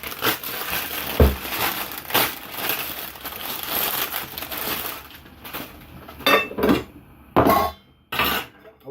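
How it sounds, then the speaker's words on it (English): A knife chops fresh celery on a cutting board. Crisp, crunchy strokes come close and loud, in irregular bursts, with short gaps between the cuts and no talk. "now I'm going to chop up a little bit of celery"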